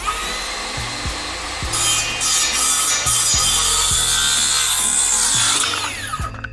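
Worm drive circular saw cutting lumber on a timber-frame house build, a loud close blade whine that grinds and bogs with repeated knocks as the cut is forced partway through.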